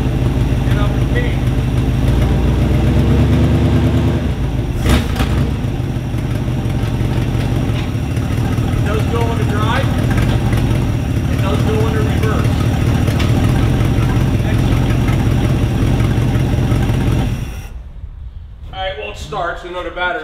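A 1964 Chevrolet Impala engine, just out of storage, runs at a steady, loud idle close by for most of the span, then cuts off near the end, leaving quieter background sounds.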